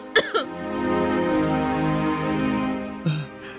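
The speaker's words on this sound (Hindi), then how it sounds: "ये देखिए वैद्य जी, मेरी माँ कितनी बीमार है, इतनी जोर जोर से खांस रही है।" An elderly mother in a Hindi cartoon coughs loudly, two sharp hacking bursts near the start, then a drawn-out strained wheeze, then two more short coughs at the end, close and alone without other talk.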